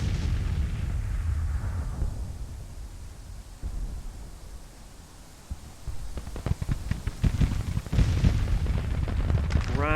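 Gunfire at a Civil War reenactment, with loud broadband rumble early on and a run of sharp cracking reports toward the end, set against constant outdoor noise.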